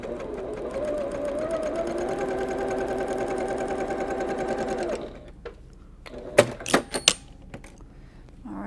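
A sewing machine fitted with a quarter-inch seam guide foot stitches a quilt seam in a steady rapid whir for about five seconds, then stops, followed by a few sharp clicks and handling noises.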